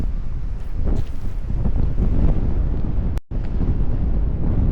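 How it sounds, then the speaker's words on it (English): Strong wind roaring steadily across the microphone beside a truck towing a trailer, a loud continuous buffeting rumble with one brief dropout near the end. "It's super windy."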